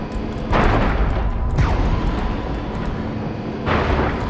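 A flying saucer in Destroy All Humans! blasts downward and wrecks buildings, producing loud roaring explosive bursts with rumbling debris, three heavy surges within a few seconds over a continuous noisy din.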